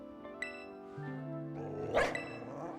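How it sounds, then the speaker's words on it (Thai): A dog-like Pokémon in the video game Pokémon Scarlet gives a single short synthesized bark over steady game music. "มันเสียงเห่าจริงเลย"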